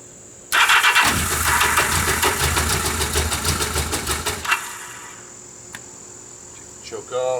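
A 1979 Yamaha XS1100 F motorcycle engine cranks and catches, running loud and close with a steady rumble for about four seconds before cutting out, followed by a few faint clicks and a brief revving burst at the end.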